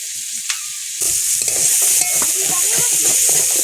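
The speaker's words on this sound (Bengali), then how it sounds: "সাইডে তেল দেবো, যে কলাগুলো এই মাছ কাঁকড়াগুলো ভালোভাবে ভেজে নেবো।" Crabs sizzle in hot oil, a sharp hiss jumping louder after the first second, with spatula scrapes and stirring clatter close up and no speech.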